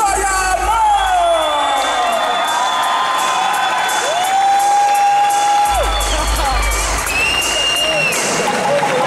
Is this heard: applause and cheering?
yes